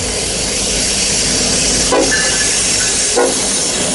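Norfolk Southern eastbound freight on Main 1 of the Harrisburg line at CP Wyomissing, locomotive 1214 leading, passes as a steady, loud roar and hiss of rolling cars with two brief louder bumps.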